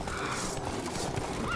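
A horse whinnies over clopping hooves amid a dense, busy background in the video game The Witcher 3: Blood and Wine, brief and fairly loud.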